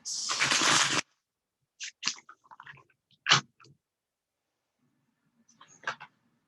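A long burst of tarot cards riffling together, followed by a few shorter, softer shuffling snaps with brief pauses between them.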